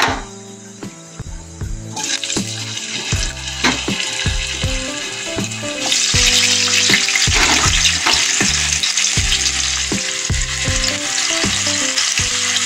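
Potato pieces frying in mustard oil with black cumin, a loud continuous sizzle and crackle that grows stronger midway, with no talking.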